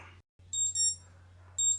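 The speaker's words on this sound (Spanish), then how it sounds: "la alarma del paso del tiempo" An electronic alarm sounds in two short bursts of high, bright beeping over a low steady hum, with a brief gap of near silence early on.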